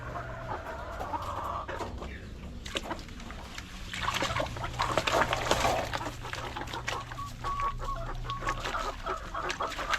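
Chickens cluck repeatedly at close range, with scattered squawks and a low steady hum underneath; no talking.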